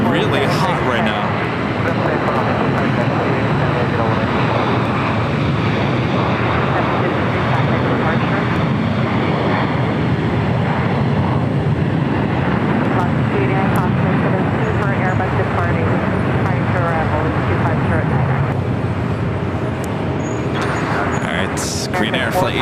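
An American Airlines passenger jet takes off from LAX bound for JFK, a broad, steady engine roar that holds loud and even throughout, with faint traffic-like rumble and some background voices mixed underneath.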